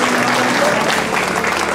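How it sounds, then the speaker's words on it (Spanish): A crowd claps at a teen beauty pageant in Peru, steady dense applause that is loud and unbroken throughout. "Un aplauso también para ella."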